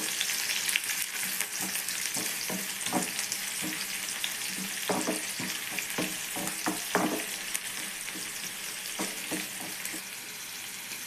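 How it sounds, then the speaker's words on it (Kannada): Onions and spices fry in hot oil, a constant crackling sizzle close by, with irregular stirring strokes and soft clicks of a utensil in the pan. "ಈರುಳ್ಳಿ ಸೇರಿಸ್ಕೊತಿದ್ದೀನಿ. ಸ್ವಲ್ಪ ಇದನ್ನು ಫ್ರೈ ಮಾಡ್ಕೊಂಡು"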